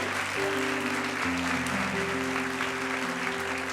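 A church congregation claps together in sustained, dense applause at a worship service, with sustained musical tones held underneath throughout.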